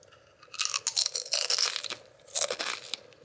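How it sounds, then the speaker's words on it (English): Potato chips crunched up close, heard as two bursts of loud, crisp bites and chewing with a short pause between them and no talking. "Let's do some ASMR chip crunching."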